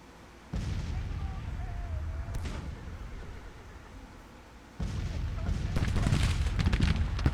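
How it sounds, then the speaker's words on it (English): An artillery volley fires in the Civil War strategy game Grand Tactician: The Civil War. It gives a continuous rumbling roar of massed guns that swells into a louder, denser barrage of booms, with a voice faintly heard beneath it. "That's a good initial volley right there."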